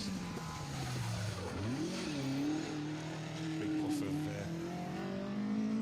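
Rally car rounding a hairpin on a stage, its engine note dropping under braking and then climbing again as it accelerates out, fairly distant with some tire noise.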